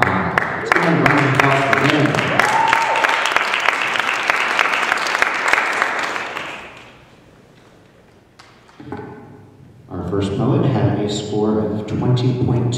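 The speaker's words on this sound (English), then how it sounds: "Let's give a round of applause for Lynne." Poetry slam audience applauding poet Lynne, loud sustained clapping and cheering for about six seconds that fades to near quiet, then voices and scattered noise pick up again.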